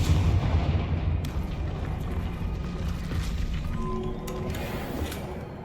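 The Confringo fire-blast spell is cast in the video game Hogwarts Legacy, a loud, booming burst with a rumbling tail, followed by a few sharp crackling hits as it fades.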